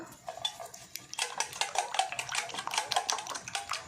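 Egg mixture stirred with fried amaranth leaves for an omelette, giving a steady run of quick scraping and clinking strokes against a bowl, close and fairly loud, with no talking.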